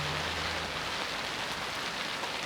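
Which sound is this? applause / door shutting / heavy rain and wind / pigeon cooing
heavy rain and wind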